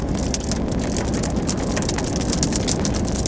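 Hail and rain pelt a car during a southwest monsoon storm, a dense, loud, constant patter and crackle of impacts on the roof and glass, with no talking.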